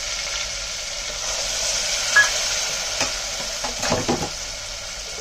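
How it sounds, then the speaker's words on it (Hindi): A spice paste of tomato, ginger and green chilli sautés in oil, a soft, even sizzle that turns into louder clustered scraping and stirring clatter toward the end, with no talk. "अब इस मसाले को मैं बहुत अच्छी तरह से भून लूँगी"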